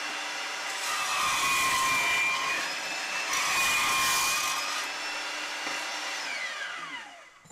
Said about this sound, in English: this is just a regular old Milwaukee handheld portable bandsaw for cutting stuff in the field